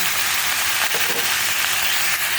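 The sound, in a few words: squid frying in pan for adobong pusit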